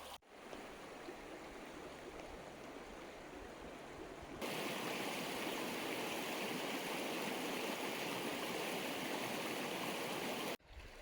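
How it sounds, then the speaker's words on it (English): Stream flowing at a trail crossing on the Santa Ynez Trail after a fire, a steady loud rushing of water, close by, with the sound getting fuller partway through and no talk. "One more stream crossing."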